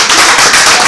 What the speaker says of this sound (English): That was a weak clap.